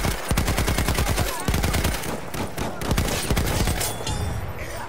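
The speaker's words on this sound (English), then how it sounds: "Enemy machine gun, sight it!" An enemy machine gun fires in a combat video game, with rapid, loud bursts of automatic gunfire hammering continuously and only brief pauses between volleys.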